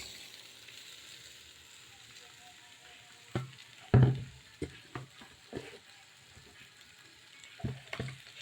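Vegetables frying with onions in a rice cooker, a soft continuous sizzle punctuated by clattering knocks and stirring scrapes as the pieces go in and are moved about.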